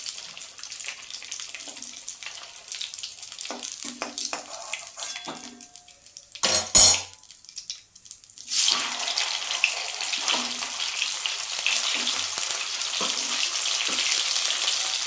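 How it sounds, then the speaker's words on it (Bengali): Soybean chunks frying in hot oil, a steady close sizzle that softens briefly, is broken by a clatter and a rush, then returns louder and continuous, with no talking. "এবার বাকিগুলো আমি এইভাবে ভেজে নেব।"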